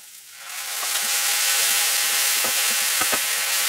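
Tomato being stirred into browned vegetables sizzling in a pan for an eggplant gratin: a steady loud frying hiss with scattered scraping and clinking spoon taps, no voices.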